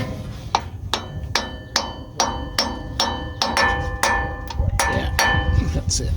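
Hammer blows driving a part into a 1986 Ford F250 shifter assembly, a dozen sharp metallic strikes in an uneven rhythm, close and loud, with brief murmured talk between them.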